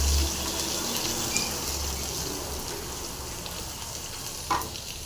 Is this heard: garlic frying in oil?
yes